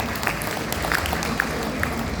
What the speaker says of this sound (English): a round of applause to my trainer